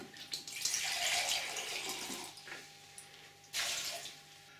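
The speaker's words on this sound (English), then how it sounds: "I'm now going to add 200 ml of water to that." Water pours into a saucepan of damsons, a bright splashing gush that fades and then returns as a second, shorter pour near the end, close by with no one talking.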